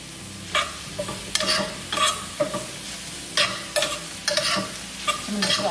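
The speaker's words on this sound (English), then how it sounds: "So all the mushrooms are in, just mixing it." Mushrooms in a turmeric braise are stirred in a sizzling pan, with a spoon scraping in repeated irregular strokes over a steady sizzle close by.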